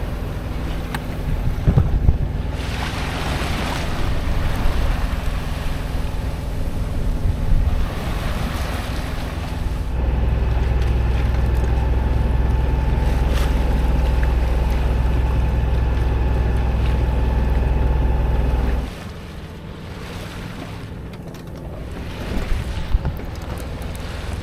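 A sailboat motors through ocean swell in the Malacca Strait near Pulau Besar, with wind buffeting and waves washing around the hull over a steady engine hum that drops away partway through.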